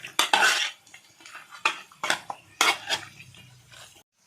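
Duck fry is stirred with a spoon in a pan, a series of sharp metallic scrapes and clinks coming in uneven bursts, close and fairly loud, with no voices.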